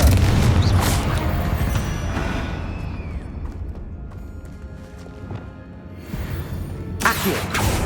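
A Confringo fire spell explodes in Hogwarts Legacy. A heavy boom opens the sound and fades into a rumbling tail, then a second blast hits near the end, with no voices.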